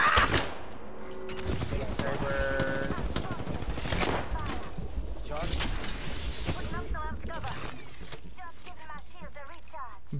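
Automatic and rapid gunfire in Apex Legends, dense overlapping bursts running nearly continuously with loud impacts, mixed with game effects and a voice talking over parts of it.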